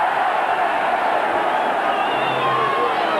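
Stadium crowd at a 1998 Wigan versus Leeds rugby league match, a steady broad roar of massed spectators with no breaks, loud and continuous throughout, with no single voice standing out.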